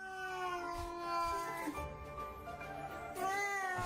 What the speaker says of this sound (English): Average orange cat activities.